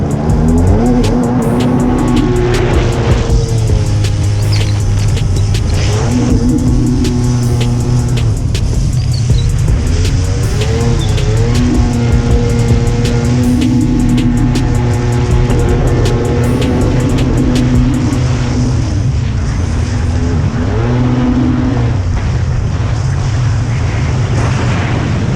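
A 1300R motorcycle with a choppy-running engine revs and accelerates on a test ride, a loud, continuous roar with rising and falling pitch, buffeted by wind.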